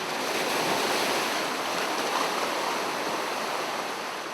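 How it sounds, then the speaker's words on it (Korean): Strong sea waves surge and crash against the rocky East Sea shore during a fishing trip, a loud continuous roar of broken surf with no break and no voices. "거세게 밀어붙이는 파도에도 아랑곳 없이 계속 낚시를 시도하기로 했다"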